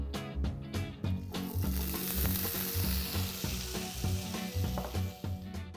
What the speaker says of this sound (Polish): I na rozgrzany tygiel ląduje masło, ale dodawamy troszeczkę oliwy.